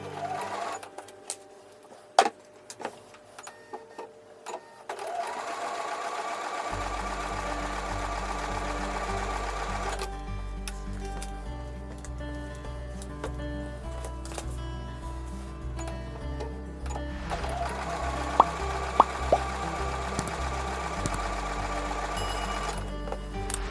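Close, rhythmic sewing machine stitching a Broken Dishes quilt block seam, with a steady mechanical chatter that runs in long stretches, broken by short pauses, fabric handling and small clicks.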